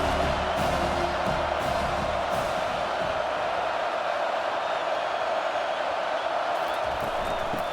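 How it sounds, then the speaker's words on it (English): The home crowd at a college football game between Marshall and Penn State roars steadily as the defense faces third down, a dense, loud wash of cheering and yelling that holds throughout. "Here comes this home crowd as the defense tries to get off the field on third down"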